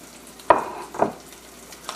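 Tuna cakes for a low-carb recipe drop into shimmering hot oil. Two sharp bursts of sizzle come close together, each fading into a steady frying hiss.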